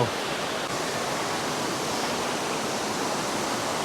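Phlio Waterfall in Chanthaburi, Thailand, a constant loud roar of falling water that stays dense and unbroken, heard up close without voices.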